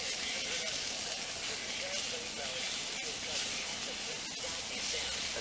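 Small camp stove burning outdoors: a steady, even hiss runs throughout without a break, close and moderately loud, with faint background sounds.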